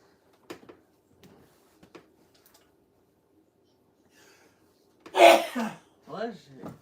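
A single sharp sneeze bursts out close by after a few quiet ticks and taps, followed right away by a voice speaking.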